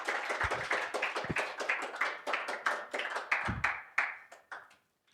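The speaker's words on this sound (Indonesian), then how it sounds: "Kasih tepuk tangan bagi dia." Congregation applauding in a church during a Sunday sermon, a dense run of hand claps with sharp individual slaps that swells and then thins out before stopping.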